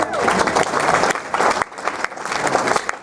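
Audience applause at a restaurant gathering, a room full of people clapping steadily, close and loud, with a brief dip midway before the clapping picks back up.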